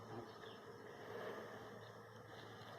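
Honey bees swarm around a hive during honey collection from mustard flowers, producing a dense, steady buzz that stays close and continuous throughout, with no talking.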